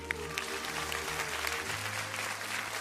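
Studio audience at a Malayalam TV game show claps in a sustained, even burst of applause, dense and steady throughout, fairly soft in level with faint murmuring underneath.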